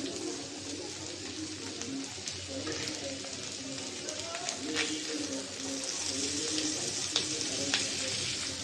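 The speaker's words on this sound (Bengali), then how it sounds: "এভাবে মাছটা তাওয়ায় ভাজি করলে" Small mola fish sizzle on a hot tawa, a steady crackling fry with occasional sharp spits and pops, fairly close and moderately loud throughout.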